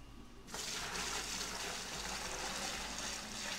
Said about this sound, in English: We're going to add salt water.